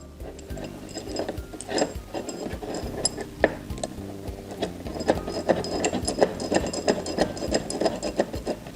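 Quick release on a Glion Dolly electric scooter being tightened down, with faint ratcheting, rubbing and small metallic clicks and ticks repeating at close range, quiet and steady with no talking.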